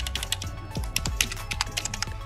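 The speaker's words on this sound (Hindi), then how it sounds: "यहाँ पे आप ध्यान से उसका टाइपिंग क्वालिटी को सुन लीजिए" Rapid typing on an Ant Esports MK1400 Pro backlit membrane wired gaming keyboard, a close, steady run of soft clacking keystrokes with uneven rhythm and no voices.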